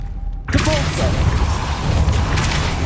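A Depulso force spell cast in Hogwarts Legacy, a sudden loud whooshing burst after a short hush, followed by sustained rumbling and magical swell.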